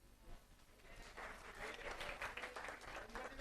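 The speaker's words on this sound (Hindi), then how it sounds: "बजाओ ताली" An audience in a classroom lecture applauds, a faint, dense patter of many hands clapping that builds and holds steady for a few seconds.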